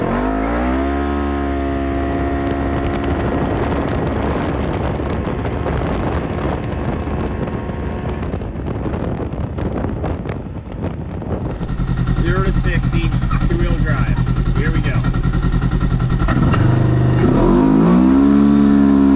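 A 2022 Polaris RS1 side-by-side accelerating hard from 0 to 60 in two-wheel drive, its engine revving up through rising pitch sweeps with loud wind buffeting, a brief easing midway, then continuing strong and close.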